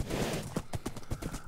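Horse hooves clip-clop in Minecraft, a quick run of clear, evenly paced hollow knocks, close and alone.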